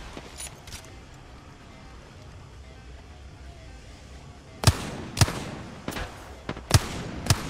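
Gunshots ring out in the Apex Legends battle royale game. After a stretch of low background rumble come several sharp, loud reports at irregular intervals, and a voice talks over the shooting.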